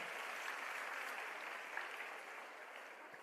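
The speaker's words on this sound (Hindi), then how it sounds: "एक बार जोरदार तालियों से स्वागत करते हैं।" A room full of people applauds for young school prize winners at a Delhi event, steady and dense clapping that holds evenly before thinning slightly toward the end.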